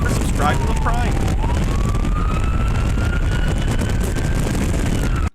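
A siren wails from a car driving on the left side of the road to pull other cars over: a loud, close, rising and falling electronic tone that runs throughout over heavy road and engine noise, cut off abruptly at the end.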